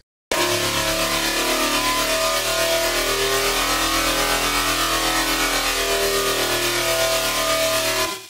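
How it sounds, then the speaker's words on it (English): A wildly distorted sustain bass patch built in the Serum synthesizer drones loud and continuous for about eight seconds, a dense, gritty, buzzing tone with a shifting growl that holds steady without breaks. "another really wild sustain bass that's gonna sound like this"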